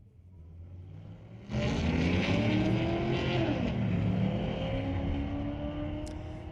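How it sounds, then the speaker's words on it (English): A 2007 Chevrolet Corvette launches at a drag strip in a street-legal class. After a quieter idle, the engine suddenly bursts into a loud rising roar, climbing through gears before slowly fading. "That's a 2007 Corvette."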